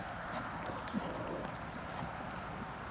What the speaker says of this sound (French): ton cheval trotte quand même en se poussant